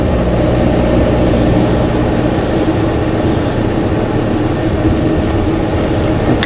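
A train runs along a railway, a steady loud rumble of wheels and carriages holding through the whole span without a break.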